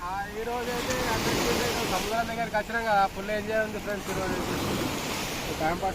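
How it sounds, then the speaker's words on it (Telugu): Oil sizzles with a faint, steady hiss as small lentil fritters fry, with occasional soft crackles and stirring sounds. "చూడు అలలు ఎట్లా వస్తున్నాయి"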